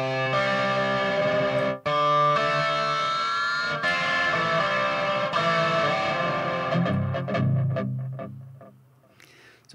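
Sustained guitar lines run through a long delay echo effect plugin, ringing tones repeating and smearing into each other, loud and dense, then thinning to sparse fading echoes near the end.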